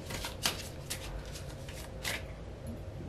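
Tarot cards are shuffled by hand, close up, in a few quick riffling bursts over a low background hum, with no talking.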